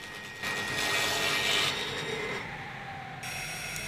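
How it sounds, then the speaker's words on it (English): A table saw blade cutting a spline slot in a reclaimed hardwood picture frame clamped to a backboard: a loud, steady rushing whine that swells as the cut is made, then eases slightly near the end. "Here I clamp the frame to the backboard and pass it over the blade to cut the slot"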